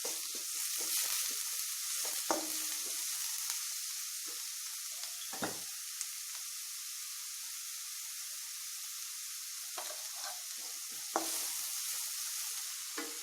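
Salted onions frying in a pan until browned, a soft, steady sizzle with occasional light knocks and scrapes, quiet and close, no speech.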